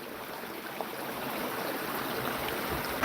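At a gold panning site, water flows through a rocky crevice with a steady close rushing hiss, constant and moderately loud with no talk over it.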